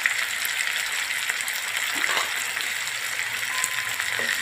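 Potatoes frying in hot oil for a moraiya khichdi, a steady bright hissing sizzle with faint crackles, close and continuous with no talk.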